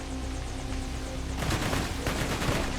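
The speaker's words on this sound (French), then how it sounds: "qu'est-ce qui me tire dessus là?" Gunfire in the Borderlands 2 video game, a low hum that suddenly gives way to dense, rapid bursts of shots and impacts, loud and continuous through the rest of the clip with no talking.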